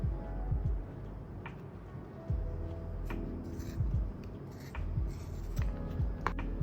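Scissors trim the edges of a rubber stamp in a series of short, crisp snips with small scraping rubs between them, close and fairly quiet.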